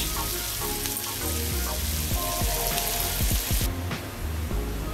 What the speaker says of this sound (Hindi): ऑनियन को लाल करेंगे अच्छे से।